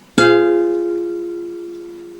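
A single guitar chord strummed once in an over-the-neck voicing, sharp attack followed by a long, slowly fading ring with clear harmonics, alone and close.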